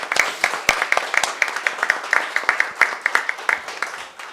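Applause in the municipal council chamber of Osasco, given for the city finance department staff: scattered, uneven hand claps from a modest group, fairly close, with a few sharp individual claps standing out and faint voices underneath.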